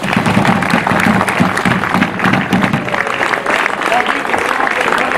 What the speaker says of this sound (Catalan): Molt bé, un aplaudiment,